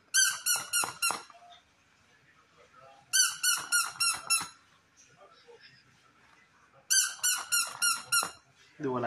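A squeaky duck toy is pressed in three quick bursts of rapid, shrill squeaks, each burst about five squeaks long, with quiet gaps between and faint sounds in the background.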